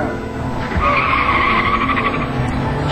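Car tires squeal and skid from a 1988 Icelandic driving skills contest, the wheels spinning hard for about two seconds over a steady engine roar, loud and close.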